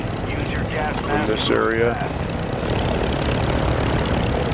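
A damaged helicopter flying in Call of Duty Warzone over Mazrah, a loud continuous rotor and engine roar filling the whole stretch while a voice talks briefly over it.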